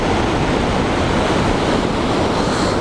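Water rushes through Malad Gorge in a loud, constant roar, with wind buffeting the microphone throughout and no voices.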